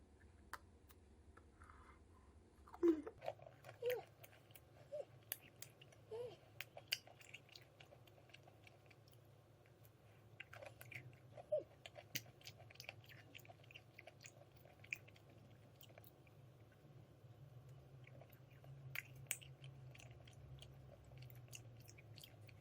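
Quiet, close chewing and biting of a matcha white chocolate chip financier, soft crunches and small clicks scattered across a faint background hum, with no talking.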